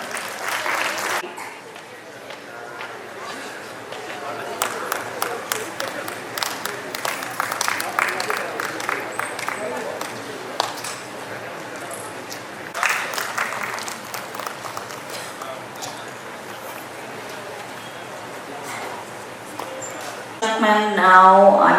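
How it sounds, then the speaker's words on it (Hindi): Audience applause at a ceremony honouring dignitaries and a district judge: sustained clapping from a crowd for about twenty seconds, moderately loud and steady, with a louder burst near the end. "एक बार तालियां हो जाए everyone."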